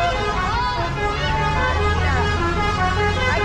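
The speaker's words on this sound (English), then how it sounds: "Can you hear the bus? This is the party bus." A party bus near a volcano site in Bandung, Indonesia, blares a loud, tonal horn melody over engine rumble and street noise, sustained and close, with people talking over it.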